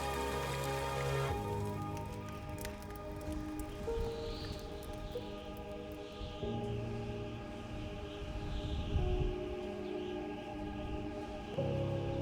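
Steady rain falls across a muddy rhino orphanage, a dense continuous patter of drops on surfaces with a faint rustle, carrying on evenly with no voices.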